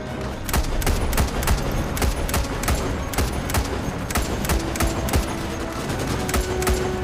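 Sustained gunfire from a firing line of troopers in Starship Troopers Extermination, with rapid overlapping shots crackling in a dense, steady barrage that continues throughout.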